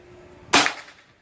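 A PCP air rifle fires once, a sharp, loud crack that decays quickly after a quiet lead-in.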